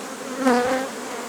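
Honey bees swarm around a flowering linden tree, a dense buzzing hum that swells briefly in the middle of a short stretch, close and fairly loud with no voices.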